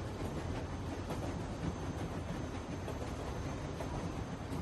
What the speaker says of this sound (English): He's driving the train okay.